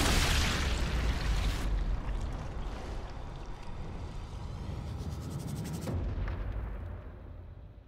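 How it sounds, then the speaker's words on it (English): A loud, broad explosion in the video game Sniper Elite 5, a heavy blast at the start that decays into a long rumbling roar and settles into low ambient noise. Nobody speaks. "Alright, they heard the explosion."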